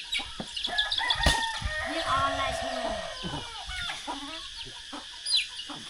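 Chickens in a rural Lao village cluck and crow repeatedly at close range, with scattered outdoor background noise around them.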